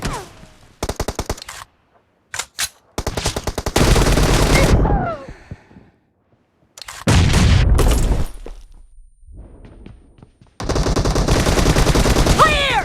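Rapid automatic gunfire comes in several long, loud, close bursts during a PUBG Mobile team deathmatch, separated by brief silences, with a short shouted voice among the shots.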